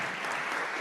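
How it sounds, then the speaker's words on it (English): Steady applause from an auditorium audience, a dense continuous wash of clapping heard alone for under a second. "You are receiving a big applause"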